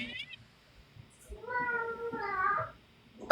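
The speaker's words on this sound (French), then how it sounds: "Ici, nous avons un chat." A house cat lets out a drawn-out, wavering meow in the middle, loud and close, with faint talk-like sounds and small noises before and after it.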